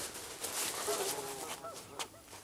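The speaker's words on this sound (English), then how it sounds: "This is 3 geese I trapped yesterday." Geese trapped out in the country give a few nasal honks and cackles, moderately loud and close, over low rustling background noise.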